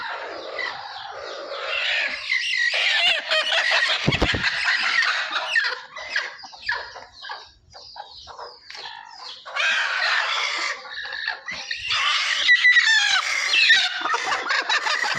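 A multi-coloured country hen on a village poultry farm squawks and cackles loudly and continuously after laying an egg, harsh excited calls repeating in bursts with brief pauses, close by.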